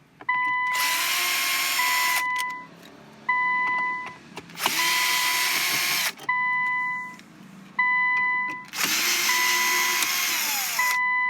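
A power drill whirs in three long bursts, each spinning down between runs, as it backs out the screws holding the radio unit in a 2015–2017 Infiniti Q50; close and loud, with no talking.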